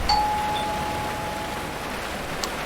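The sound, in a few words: doorbell ringing in video game GTA V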